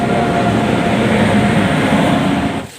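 A train pulls into a station with a loud, steady rumble of wheels and carriages that holds for nearly three seconds, then eases off at the very end.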